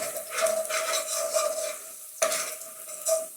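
Garlic frying in hot oil over medium heat for a Bengali-style chicken chilli garlic madras, giving a steady close sizzle with faint stirring scrapes and a brief sharp clatter partway through.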